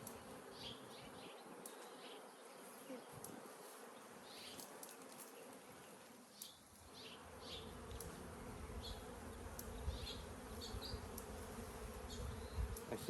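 Honey bees drone and buzz steadily around an open hive during a backyard hive inspection, a continuous close, moderately faint hum with individual bees passing nearby, and no talking.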